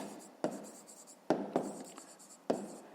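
Pen writing on paper while working a fifth-grade math exercise, a soft continuous scratching with four sharper strokes standing out, close and fairly quiet.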